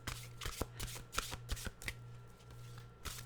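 Mystical wisdom oracle cards being shuffled by hand, quiet and close, with a run of soft riffling flicks and slaps in an irregular rhythm.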